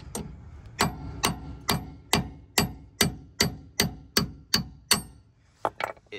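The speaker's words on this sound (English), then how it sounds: "if you move the wheel stud over to approximately between the two caliper mounting points and you smack it off" On a 2022+ Subaru WRX hub during a big brake kit install, a hammer drives out a wheel stud with about a dozen sharp, evenly spaced metallic blows, loud and close with no talking.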